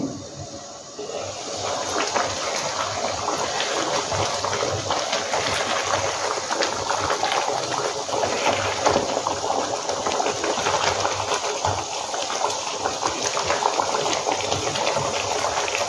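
A covered pot of creamy spicy chicken curry cooked in milk, with green chilli, boils steadily, giving a continuous bubbling hiss at an even level throughout, with no voices.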